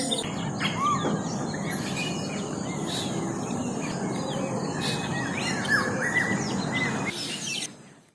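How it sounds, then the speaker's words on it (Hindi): Many birds chirping and calling together over a steady hum of insects, a dense spring chorus that runs continuously, then fades away near the end. "पंछियों के कलरव से गूंज रहा था"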